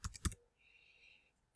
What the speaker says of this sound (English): I'm going to start typing motor.